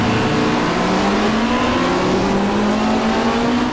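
A pack of 1995 Super Touring race cars roars away from a green-light start at Mallala, Australia, engines loud and close, with pitch climbing steadily as they accelerate together.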